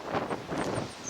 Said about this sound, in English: It's always gonna be windy at the Pacific coastline.